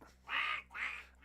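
A human voice imitates a duck with two drawn-out nasal quacks in a row, close and clear, with nothing else beneath them.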